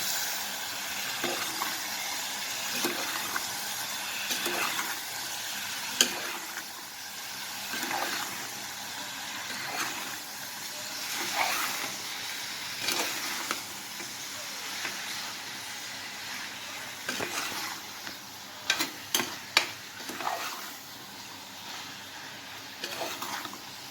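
Ivy gourd (tindora) curry is stirred in a sizzling pan, with a soft continuous frying hiss and repeated scraping strokes of a spoon against the pan.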